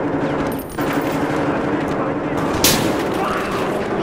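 Gunfire in the police shooter Battlefield Hardline, loud and dense: a steady barrage of shots runs the whole stretch, with a brighter burst partway through.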